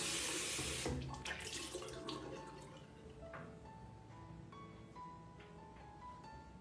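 Tap water runs steadily into a sink during rinsing, a continuous hiss and splash with some dripping and small clinks, fairly quiet and without talk.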